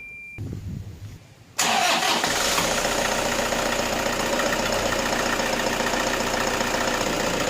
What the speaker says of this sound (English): Then I will start the engine.